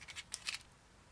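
Small folding pocket scissors being handled, a few quick, faint metallic clicks and snips over about half a second, close and otherwise quiet.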